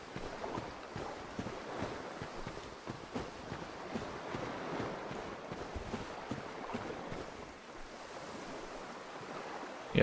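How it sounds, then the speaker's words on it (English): Flowing water in the video game Dark Souls rushes in a steady broad wash for the whole stretch, moderately loud and even, with no talk over it. "Yep, the water is flowing."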